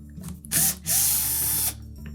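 A power driver or ratchet backs out hex-head screws holding a Whirlpool washer's control panel to the main top, in two close mechanical whirring bursts separated by a short pause and followed by quiet.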